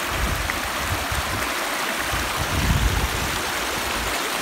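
A pond overflowing after heavy rain sends water rushing over riprap rocks, a loud, steady, broadband roar that carries through the whole stretch with no talking.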